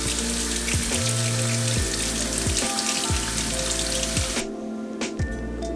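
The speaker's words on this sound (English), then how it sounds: "we're gonna take our can of chickpeas here, and I'm just gonna rinse them off" Canned chickpeas rinsed under running tap water in a kitchen, a steady loud hiss of flowing water with occasional clanks and taps of the can or strainer, easing off near the end.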